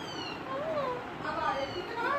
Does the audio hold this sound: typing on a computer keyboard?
no